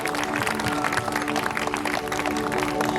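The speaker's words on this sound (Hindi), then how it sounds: "जोरदार ताली बजाकर परमेश्वर को धन्यवाद करें" Church congregation at a revival gathering clapping together: steady, dense applause from a crowd, continuous and fairly loud for the whole stretch, with a faint murmur of voices.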